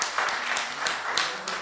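Scattered audience clapping in a coffee house, a few uneven claps and brief bursts heard close, with faint murmuring.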